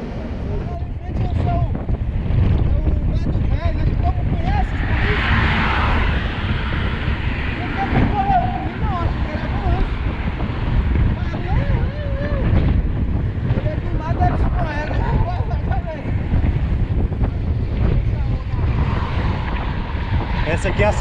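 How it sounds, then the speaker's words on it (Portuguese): Strong headwind buffeting the microphone while mountain biking on a trail, a loud continuous roar and rumble throughout, with faint voices talking underneath. "Que vento contra, ó. Tá cabuloso, viu? É, forte, mano."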